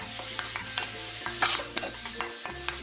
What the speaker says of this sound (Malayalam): ഓയിൽ ചൂടാകുമ്പോഴേക്ക് വെളുത്തുള്ളിയും സവോളയും ഈ വെജിറ്റബിൾസും എല്ലാം ഇതിലേക്ക് ഇട്ട് കൊടുക്കാം. ഫ്ലെയിം കൂട്ടിയിട്ടിട്ട് വേണം നമ്മളിതൊന്ന് വഴറ്റിയെടുക്കേണ്ടത്.